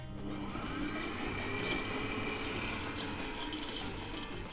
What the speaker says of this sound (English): I'm just gonna whisk that until it's soft, pale, and creamy